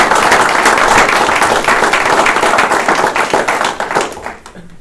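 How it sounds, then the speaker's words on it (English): A ceremony audience applauds the protocol and public affairs team at an Air National Guard change of responsibility event, a loud, dense run of clapping that holds steady for several seconds, then thins and fades at the end. "So let's give them a huge round of applause."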